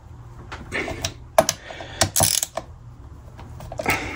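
Screws on a Monorim MD-MXR1 rear brake adapter for a Ninebot Max scooter motor are loosened, producing close ratcheting and clicking mechanical bursts with scattered sharp metallic snaps and no talking.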